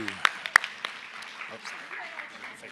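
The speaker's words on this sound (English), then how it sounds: "Let's give them a bigger round of applause." Scattered audience clapping at a community meeting for a group of performers, fairly faint and distant, with a couple of sharper claps early on and a low murmur of voices underneath.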